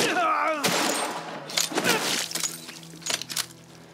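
Gunfire from a Borderlands 3 firefight, several sharp bursts and single cracks scattered across the stretch, loud and close, with tails and clatter between shots.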